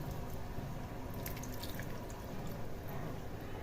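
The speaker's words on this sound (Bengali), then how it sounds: "আলুটা ডুবে যাওয়া অবধি আমি জল দেবো" Water pouring into a pot of potatoes in a kitchen, a steady, close splashing flow without pauses.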